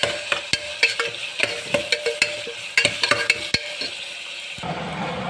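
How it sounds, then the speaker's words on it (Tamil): Onion, curry leaves, crushed ginger and peeled garlic sauté in a pan for a South Indian dish, with a steady sizzle and a string of sharp scraping stirs at irregular intervals, close and fairly loud. "அப்புறம் உரித்து வச்ச பூண்டு சேர்த்து நல்லா வதக்கிக்கோங்க"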